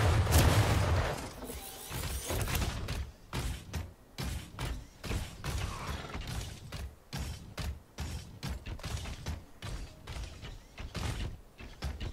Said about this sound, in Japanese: 銃声よ